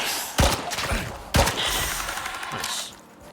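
Gunfire aimed at a scorpion in the Icarus video game: two loud, close blasts, each followed by a rumbling tail and a quieter third shot fading out.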